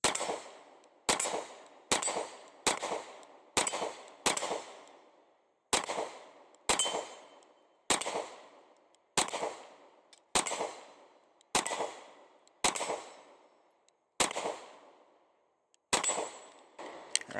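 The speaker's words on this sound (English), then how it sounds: "Let's go ahead and load up the 15-round mag now and shoot a little bit more." S&W Shield X pistol fired at 20 yards, about fifteen sharp, loud shots at an irregular, unhurried pace, each followed by a brief ringing decay, with no talking.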